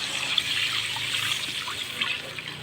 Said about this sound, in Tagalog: Ayan, lagay ko na rin yung gata.